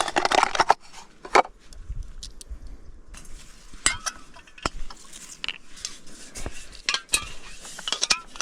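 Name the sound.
camping cooking gear being handled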